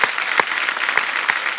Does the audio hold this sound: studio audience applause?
yes